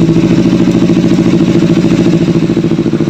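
A Kawasaki Ninja FI motorcycle engine runs close and loud at idle, a steady rapid pulsing putter with a mechanical clatter throughout.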